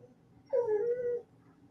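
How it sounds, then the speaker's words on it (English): A dog gives a single drawn-out whimper lasting about three-quarters of a second, a thin whining cry that rises and then sags before fading. It stands out clearly against a quiet, faintly humming background, with no other voices heard. "Even the dogs are crying."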